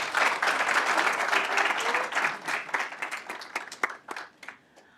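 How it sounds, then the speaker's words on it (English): An audience applauds at the close of a summit, a dense burst of clapping that stays full for a few seconds, then thins into scattered individual claps and fades out. "Let's give another round of applause to all of our participants."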